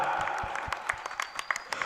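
An audience at an Islamic Maulid Nabi gathering breaks into scattered applause, sharp uneven claps heard moderately close amid a murmuring crowd.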